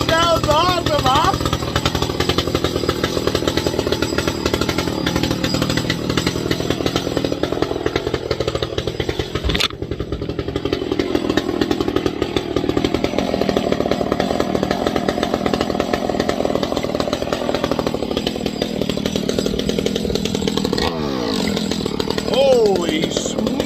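New Echo chainsaw with no bar fitted, engine running loud and close throughout, steady buzzing idle with throttle revs rising and falling, with a brief sharp cut near the middle.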